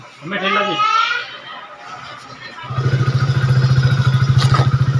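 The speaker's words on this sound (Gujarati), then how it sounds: "હાર્દિક બાઈક લઈને મિલ દે." A motorcycle engine starts up partway through and idles with a steady, pulsing rumble close by, following a stretch of voices.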